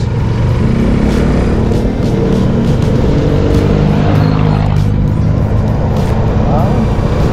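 A motorcycle-style tricycle engine drones loud and close while riding, a continuous rough motor hum under people talking.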